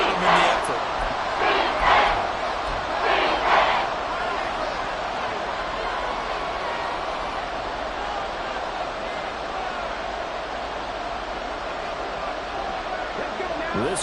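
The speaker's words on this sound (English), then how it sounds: "That just means this crowd's going to get even louder." Virtual stadium crowd roaring in Madden 24 during a Texans goal-line stand, a dense, steady wall of cheering and shouting that swells in a few bursts early on before settling into a continuous loud hubbub.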